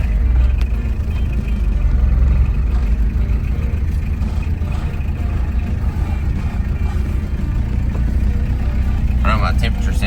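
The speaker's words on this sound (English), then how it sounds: "Time to go for the very first test drive." A 1982 Chevy LUV diesel pickup, abandoned for over fifteen years, drives off on its first test run, with a loud, steady engine rumble throughout and a voice talking over it.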